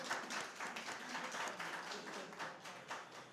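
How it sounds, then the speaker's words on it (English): A debate audience claps for the debaters in a steady, moderately dense round of applause that rises and falls slightly over a few seconds, fairly quiet and with no talking. "Let's clap them,"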